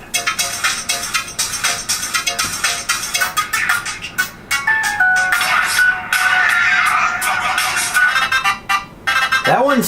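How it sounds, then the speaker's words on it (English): A ringtone from a Samsung Moment SPH-M900 phone plays loudly through its speaker, a busy electronic tune with rapid pulsing notes and a sustained melodic stretch, ending with a rising and falling sweep. "Now let's take a look at some of the ringtones that are on here."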